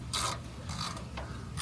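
Hand ratchet loosening bolts on a BMW M3 during an oil change, giving short bursts of quick clicking pawl ticks, close and fairly quiet, with a few separate pulls.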